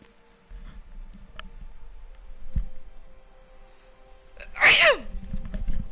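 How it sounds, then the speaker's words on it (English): A person gives one sharp, loud sneeze near the microphone over a quiet low hum of game background audio, with soft rustles before it. "Oh, I gotta sneeze."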